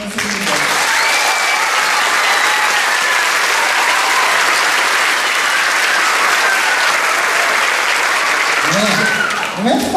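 A graduation ceremony audience applauds for the graduating girls, steady dense clapping filling the hall for the full stretch, with a few voices and cheers rising near the end.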